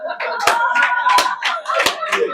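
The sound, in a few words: audience member clapping hands at poetry event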